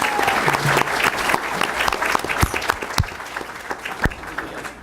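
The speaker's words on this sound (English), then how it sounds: "let's give our panelists a round of applause" A crowd applauds steadily for several seconds for panelists at a Chicago public forum, claps sharp and dense at first, then thinning out toward the end.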